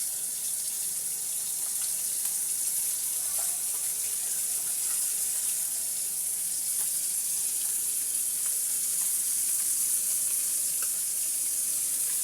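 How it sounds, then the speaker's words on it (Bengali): Tangra fish frying in hot oil give a steady, even sizzle that holds at moderate loudness throughout, with faint crackles scattered across it and no voices. "ট্যাংরা মাছগুলোকে আমি এবার সুন্দর করে ভেজে নেব।"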